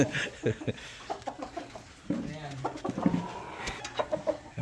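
A large rooster and hens clucking and fussing at close range in a farm feeding area, with people talking in the background.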